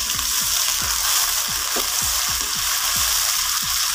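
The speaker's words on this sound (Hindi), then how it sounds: "इसको थोड़ा सा हम फ्राई कर लेंगे ताकि ये सारी चीज़ें अच्छे से मिक्स हो जाएं।" Tomatoes and green chillies fry for an aloo gosht potato and beef curry, with a steady loud sizzle and a repeated scrape of a spoon stirring the pan about every half second. No one speaks.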